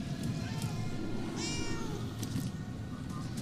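A cat meows once near the middle of a stretch of Murdered: Soul Suspect gameplay, a short clear call over a steady bed of game background noise.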